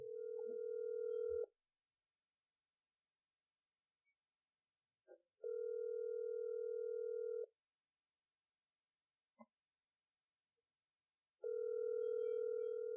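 A telephone call rings out on the line: three long steady tones about two seconds each, separated by longer gaps, heard clearly and alone with a couple of faint clicks between rings.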